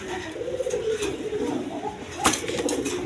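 A pair of white Bombay pigeons, a female and a male, coo in steady low rolling murmurs up close, with a brief sharp rustle partway through.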